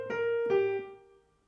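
A short blues lick on piano, two struck chords or notes ringing out clearly and then decaying, alone and close.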